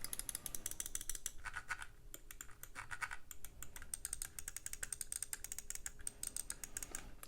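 Rapid, fast clicking from the buttons of Pulsar and Lamzu gaming mice, close and crisp, tapped in quick bursts throughout with no voice.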